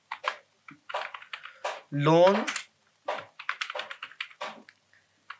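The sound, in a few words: typing on a computer keyboard in Excel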